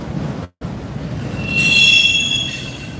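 Freight train rolling past a rider on an e-bike in New Orleans, a steady heavy rail rumble up close, then high metallic wheel squeals rising over it for about a second before easing, with no talking.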